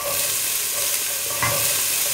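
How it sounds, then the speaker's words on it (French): Onions dropped into hot coconut oil, a loud, dense, close sizzle that holds steady and swells briefly as more hits the pan. "On jette les oignons."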